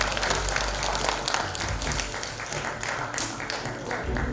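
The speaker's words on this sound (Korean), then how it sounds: "뜨거운 박수로 축하해 주시기 바라겠습니다" Audience applause at a Jeongeup Cultural Center anniversary award ceremony, a dense burst of clapping that runs throughout at moderate level, mixed with faint background murmur and scattered sharper claps.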